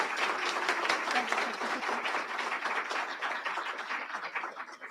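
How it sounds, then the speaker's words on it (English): At an International Women's Day celebration, an audience applauds an award presentation with steady, dense clapping that holds for several seconds before thinning slightly at the end. "Big round of applause."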